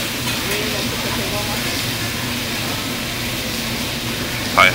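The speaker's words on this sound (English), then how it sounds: "Probably how they just fry it right here in front of you" Food fries on a Benihana hibachi grill in an Orlando, Florida restaurant, a broad steady hiss under nearby chatter, with a brief sharper sizzle at the end.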